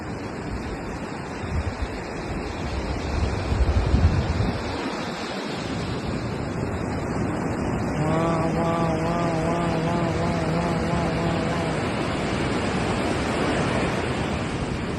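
Waves wash onto a Thai beach in a continuous, loud roar of surf mixed with gusting wind noise on the microphone, steady throughout, with a faint tonal hum in the middle.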